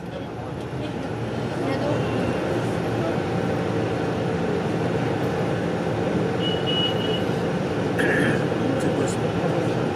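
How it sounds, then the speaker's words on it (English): A Mumbai local train passes at night, a loud, continuous rumbling roar of rail cars that fills the whole stretch, with faint high beeps briefly audible. "That is the one reason it's known as the lifeline of Mumbai, the Mumbai local train."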